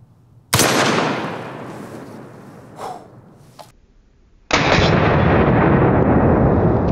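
.50 Beowulf semi-automatic rifle fires one round at an outdoor target, a single loud close blast with a long decaying echo. A short rustle follows, then a steady loud rushing noise takes over near the end.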